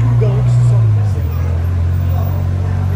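A Ferrari engine idles with a deep, loud steady drone that drops in pitch partway through, heard close on a street at a night car-spotting gathering in Cannes, with people talking over it.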